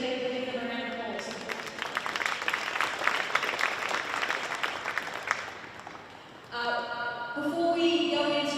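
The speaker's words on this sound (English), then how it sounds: "So let's take the opportunity to thank those people and give them a round of applause." A crowd at a school rugby league grand final presentation claps for teachers, a dense spread of hand claps that swells, thins out, then gives way to music and voices.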